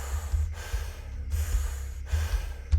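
Strong, deliberate breathwork breaths, close and audible, with sharp nasal intakes and releases repeating in a steady rhythm, about three or four cycles, with no talking.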